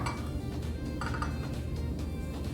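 A spoon stirs buttermilk into ground cucumber in a bowl for an uncooked Onam sadya dish, giving close clinking taps and wet scraping in an uneven rhythm.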